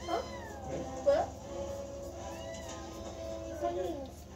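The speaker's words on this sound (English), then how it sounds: "Why do you cry, Kitty?" A cat meows several times at close range, drawn-out cries rising and falling, with quiet talk in the background.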